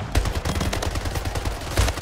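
Rapid gunfire in the arena shooter video game Splitgate, dense bursts of sharp automatic shots firing continuously and loudly, with a few heavier reports standing out.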